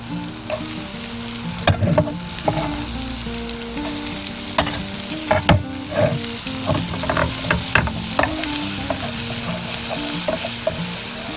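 Chopped garlic and onion fry in oil and butter with a constant close sizzle, punctuated by frequent scrapes and knocks of stirring in the pan.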